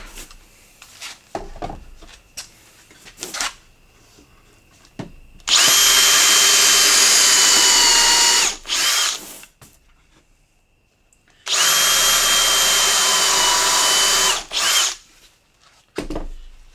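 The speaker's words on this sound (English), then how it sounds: "I'll put in the first screw" A power drill whirs loudly in two sustained bursts, driving a screw into wood, with quieter handling clicks and taps between the runs.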